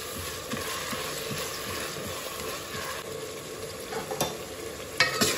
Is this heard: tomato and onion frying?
yes